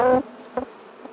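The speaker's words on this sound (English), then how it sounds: "these are Welsh black bees" A swarm of Welsh black bees inside a shed gives a close buzzing hum in short bursts: one strong buzz, then a fainter one and a weak trailing drone, with no talking.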